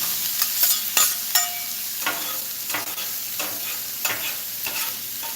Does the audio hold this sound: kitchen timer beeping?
no